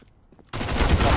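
Gunfire in the video game CS:GO bursts in suddenly after a quiet moment, a loud, dense rapid volley that continues to the end.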